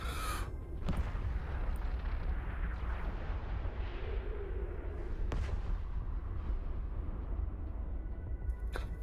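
Continuous booming explosions and weapons fire from space combat in the video game EVE Online, a dense, loud rumbling barrage with sharper blasts standing out around the second and fifth seconds, no talking.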